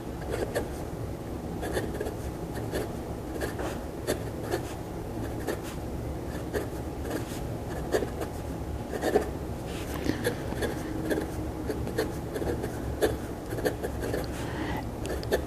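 A fountain pen nib, a Moonman T1 or TWSBI Eco, scratches across paper in quiet, close strokes with small irregular taps and scrapes, soft and continuous with faint background hiss.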